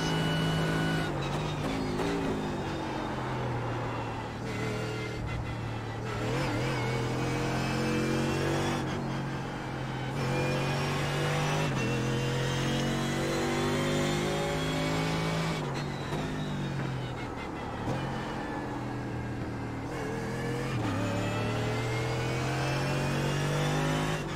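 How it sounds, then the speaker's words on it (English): A Mercedes AMG GT3 racing around Spa in iRacing, its engine revving loudly through repeated climbs and gear shifts, with steady strong drone and brief dips as it lifts off. "Yeah, that Mercedes really has a nice sound. Sounds so powerful."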